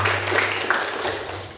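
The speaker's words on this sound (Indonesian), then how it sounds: "Tepuk tangan." A classroom of tenth-grade students claps briefly in a dense, scattered burst with a low steady hum beneath it.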